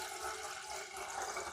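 Water pours steadily into an electric kettle, a continuous broadband rushing splash that stays even and fairly loud with no talking over it.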